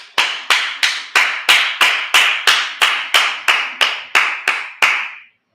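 A worship congregation at a Sabbath service claps about thirteen times in a steady, even rhythm. The claps are loud and close and fill the room alone, with no talk over them, before stopping.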